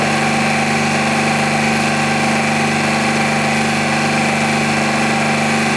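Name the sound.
distributor spinning on Sun distributor test machine at 1500 RPM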